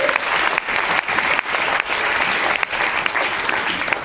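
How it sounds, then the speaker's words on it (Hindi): A large audience seated in a hall claps loudly and continuously, a thick sustained roar of many hands with a few brief dips in intensity. "तालियां बजा दीजिए भगवान के लिए, परमपिता परमेश्वर के लिए।"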